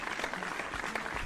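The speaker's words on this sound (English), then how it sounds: "That one gets a round of applause." A small group applauds in a steady, moderately quiet patter of claps during a podcast-style discussion about the best and worst Sonic characters, lasting just over a second with no talk over it.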